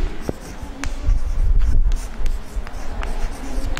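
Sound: writing the statement of Thales' theorem

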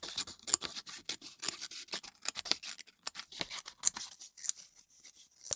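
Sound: scissors cutting paper into thin strips

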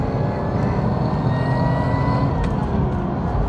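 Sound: Lexus IS200 engine accelerating and shifting gears

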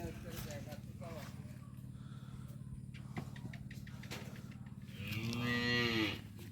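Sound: Holstein Friesian heifer mooing at dairy farm

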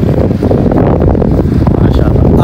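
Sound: wind blowing outside a railway platform

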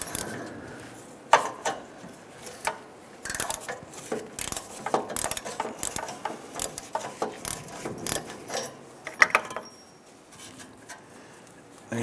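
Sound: split O2 sensor socket ratchet removing Jeep Wrangler oxygen sensor

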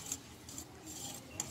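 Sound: stirring cathedral window dessert mixture with a utensil

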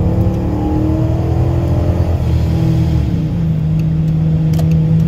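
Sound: car accelerating hard, engine revving with high stall torque converter

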